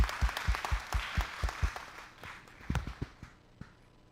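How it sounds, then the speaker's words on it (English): An audience claps for educators at a high school event, a short burst of rhythmic applause that quickly thins out and fades to scattered claps. "let's give a round of applause for the educators"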